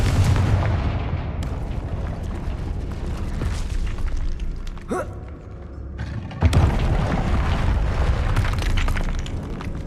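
A Confringo blasting spell explodes in Hogwarts Legacy, a loud, booming in-game blast with crackling, shattering debris that fills the scene almost continuously, dips briefly, then surges again with a second strong burst.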